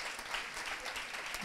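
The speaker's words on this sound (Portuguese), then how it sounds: "palmas para esse pôr do sol" An audience at an outdoor music show in Bahia applauds at sunset, a continuous wash of clapping heard at a distance, soft and steady throughout.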